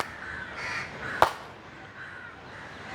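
A single crow caw rings out sharply, fairly close, with no talking around it.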